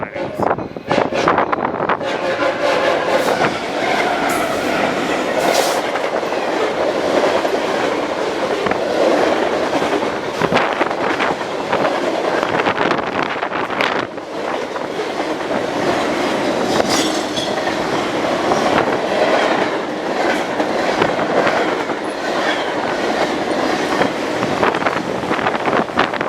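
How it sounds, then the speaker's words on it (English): A freight train headed to Leesdale Yard rolls past close by with a sustained loud roar and rhythmic wheel clatter, buffeted by wind noise on the microphone, with occasional voices mixed in. "Great freight, now headed to Leesdale Yard."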